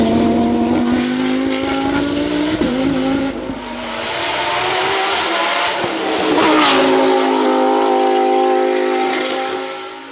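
A Lamborghini Huracan Super Trofeo race car screams past at a hill-climb race, its engine loud and close, rising and falling through gear changes with a sustained high-revving roar across the whole stretch.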